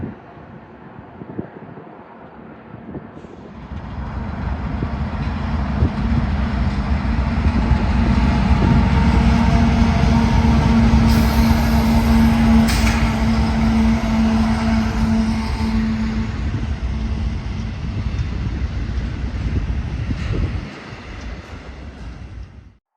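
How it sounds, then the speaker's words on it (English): A Union Pacific freight train comes down a steep grade on the Condon Branch near Arlington with its dynamic brakes working. A loud, sustained rumble and drone builds, holds for about fifteen seconds, then fades, with some wind buffeting and no talk. "the dynamic brakes could be heard keeping the train in check down the steep grade"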